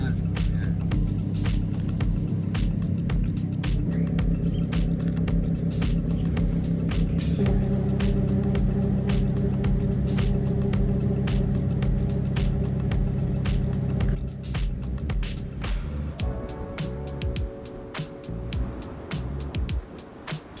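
A car engine idles and rumbles steadily at close range as the vehicle pulls up and parks in the middle of a road, its low drone continuing throughout with a slight shift in tone near the end.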